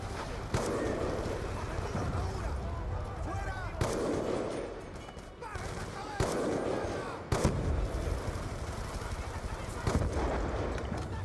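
Call of Duty: Black Ops 2 combat with sharp gunshots and heavy booming explosions every few seconds over a constant rumble of battle noise.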